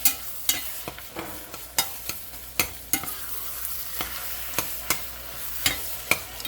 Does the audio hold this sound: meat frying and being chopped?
yes